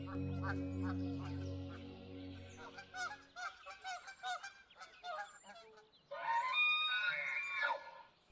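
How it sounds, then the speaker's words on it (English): Geese honk and squawk in a noisy, overlapping chorus, with harsh repeated calls from several birds close by. "Amidst the noisy chaos of the ground birds"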